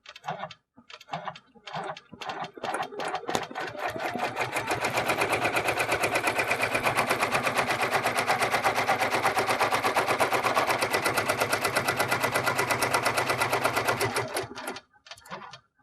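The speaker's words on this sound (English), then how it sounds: "You want to go ahead and start the stitching, and it will baste all the way around the area in which the next stitching will be." An embroidery machine runs a basting stitch around the design area, a fast, steady mechanical chatter of needle strokes close by that ramps up, holds for about ten seconds, then slows and stops, with no talk.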